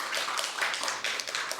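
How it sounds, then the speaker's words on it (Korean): A church congregation claps to welcome a newcomer during a service, a dense, steady patter of many hands at moderate volume, continuous throughout with no voices over it. "우리 박수로 환영하겠습니다."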